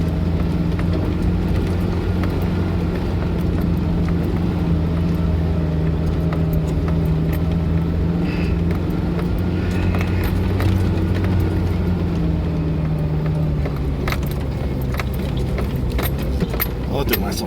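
A Jeep crawls up the upper section of the Morrison trail in second gear, its engine a steady low drone throughout with faint rattles and jangling on top.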